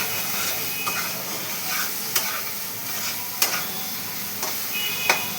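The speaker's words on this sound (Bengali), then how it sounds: "এবার এই মশলাটা ভালো করে কষিয়ে নেব।" Spice masala with turmeric and salt stir-fried in a pan, a steady close sizzle under repeated sharp scrapes of a spatula against the pan at roughly one-second intervals, with no talk.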